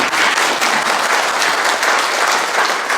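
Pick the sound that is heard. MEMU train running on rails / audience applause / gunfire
audience applause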